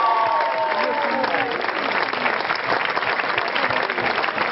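An audience at a music festival award ceremony claps steadily and loudly, with crowd noise and a voice briefly audible at the start.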